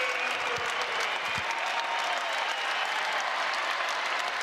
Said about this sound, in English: The crowd is on their feet. They love it.